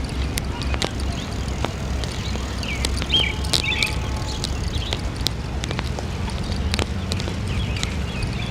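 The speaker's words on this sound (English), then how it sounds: "You hear the birds chirp" Scattered, brief bird chirps ring out intermittently over a low, steady outdoor rumble in Central Park, fairly faint and spread across the scene.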